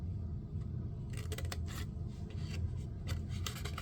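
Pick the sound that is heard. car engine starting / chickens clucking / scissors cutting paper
scissors cutting paper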